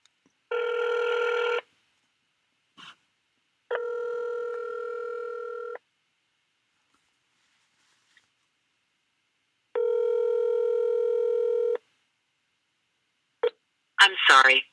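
A telephone call being placed, with a short burst of dialing tones followed by two long ringback tones separated by silence, clear and isolated, and a brief voice at the end.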